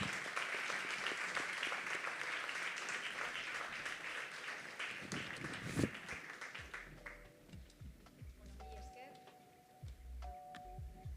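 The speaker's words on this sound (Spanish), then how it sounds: "Un aplauso." An audience applauds at a public talk on the criminalization of solidarity, a dense burst of clapping that fades after several seconds into quieter room sounds, with a few bell-like tones and some voices.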